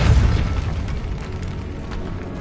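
A Repulso spell blast in a wizard game bursts as one loud booming impact at the start, then decays into a low rumble that fades over a couple of seconds.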